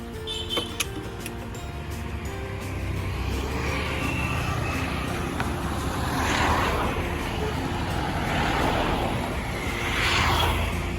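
A car travels along a road in the dark during rain, giving a steady broadband rumble of engine and tyre noise with swelling passes, and a voice speaks briefly over it.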